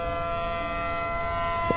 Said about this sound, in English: There is sirens going off.